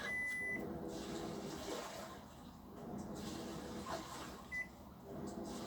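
Microwave oven heating chocolate in a kitchen, a low steady hum with faint rattling and short beeps at the start and near the end, quiet and close.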